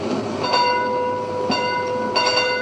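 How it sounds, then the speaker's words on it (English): A train rumbles past with a steady drone and tonal whine, swelling in bursts as cars go by, fairly close and loud. "Is that the train?"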